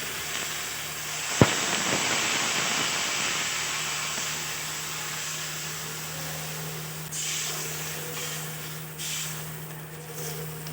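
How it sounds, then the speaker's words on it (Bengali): Water poured into a pan of fried fish heads with turmeric and salt, a sharp hit followed by a loud, sustained steamy sizzle and hiss that slowly fades, with no talking. "ভেজে রাখা মাথাগুলো দিয়ে দেব জল দিয়ে দেবো"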